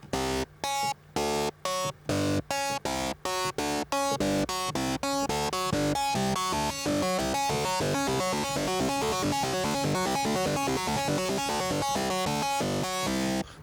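A keyboard plays a rapid interweaving pattern alternating right and left hands, dense repeated notes starting with short spaced chords then running continuously and evenly, with no speech.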